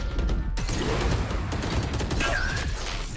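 Rapid gunfire in the video game Valorant, a dense loud clatter of shots with sharp transients over a steady background din, no talk.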